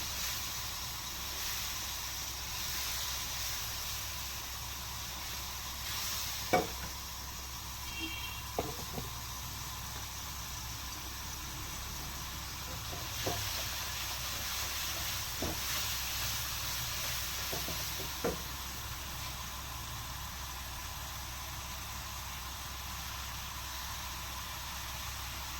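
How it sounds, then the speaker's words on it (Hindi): Ginger garlic paste fries lightly in a pan for an egg curry, a soft, steady sizzle and hiss with a few faint utensil taps scattered through the quiet. "इसको हल्का सा फ्राई करेंगे"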